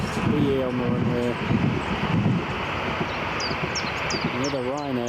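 Ryanair and BA airliners on the runway at Newcastle International Airport: a steady, loud jet engine roar with whining tones and wind noise, while people talk over it.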